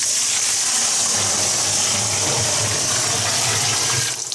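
Water pours steadily into a barrel in a continuous broadband rush, loud and close, with a faint low rumble underneath, tapering slightly at the end.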